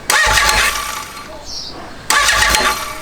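An 823cc Honda CB750 motorcycle engine, unstarted for two years, cranks and catches briefly, drops off, then turns over and fires again with a rough, throaty burst up close.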